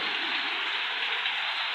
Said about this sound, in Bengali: অবশেষে আমাদের মেহেরপুরে রহমতার বৃষ্টি আসলো